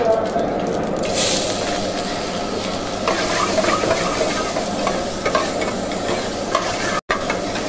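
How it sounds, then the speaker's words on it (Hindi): Onions go into hot oil with crackling cumin seeds for a restaurant-style matar paneer, giving a steady close sizzle with stirring scrapes throughout and a voice talking over it. "उसके बाद इसमें ऐड करेंगे ऑनियन"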